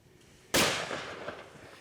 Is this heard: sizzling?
no